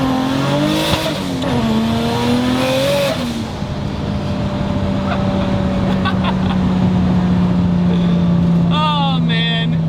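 A Toyota 1JZ engine-swapped car revs, its tone sweeping up and down through the RPM range before settling into a steady drone, with voices talking over it.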